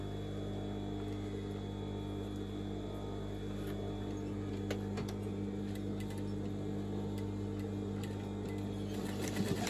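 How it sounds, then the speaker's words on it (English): A sewing machine stitches a fabric table runner with a steady, continuous motor whir and hum. Faint ticking is heard over the whir, with no talking. "I'm going to back tack that because so it's holding that in place."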